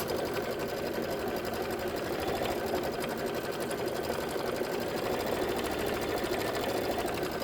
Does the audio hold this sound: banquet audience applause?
no